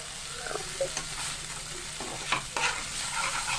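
Poppy seed and cashew paste being stirred in a pan for a mixed vegetable dish, with soft scraping strokes and a low sizzle running steadily, close and fairly quiet, with no voices.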